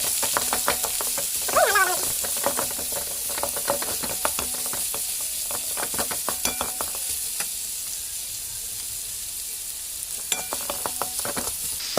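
Onions sautéing in a pan for purple cabbage poriyal, a steady sizzle and hiss with scraping stirs and clinks of a spoon against the pan, close and continuous.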